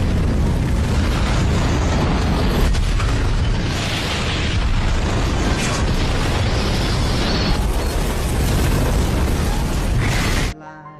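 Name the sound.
building explosion in The Walking Dead film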